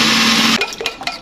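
An electric mixer grinder starts up for vegetable raita, running with a loud steady whir for about half a second before cutting out, followed by a few scattered clicks and knocks.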